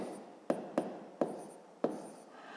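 Pen writing a math formula on paper, close scratchy strokes with four or five distinct taps as each stroke begins, spaced irregularly with no talking.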